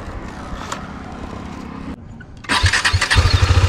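A motorcycle engine starts after a low idle-like rumble: a brief hush, then the engine catches and throbs loudly and close, with rhythmic revving pulses.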